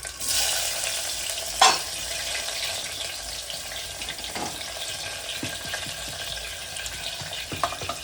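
Chopped large onion dropped into hot oil with whole spices while cooking rajma masala rice, hissing and sizzling steadily up close, with a sharp burst as it hits the pan and occasional stirring clicks.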